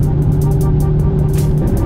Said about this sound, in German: geben wir mal gescheit Gas.